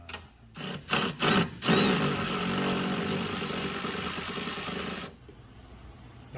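A power tool, likely an impact driver, spins bolts off the compaction pan of a Ginzu snow groomer in several short bursts followed by a longer steady whirring run, loud and close, with no talk.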